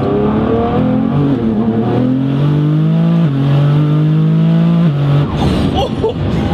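A 1600 hp Nissan GT-R accelerates hard in second gear with a loud, close, rising engine roar. The pitch climbs steadily with brief dips at shifts before it trails off, and a voice cuts in at the end.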